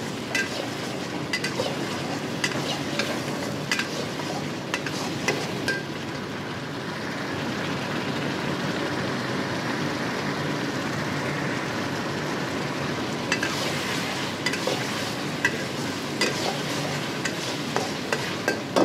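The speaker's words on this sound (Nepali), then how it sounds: "मसलालाई चाहिँ मजाले भुट्नुपर्छ" Masala for chicken gizzard being stir-fried in a pan, a continuous loud sizzle with frequent scraping and tapping of a spoon against the pan, close and unbroken, no talk.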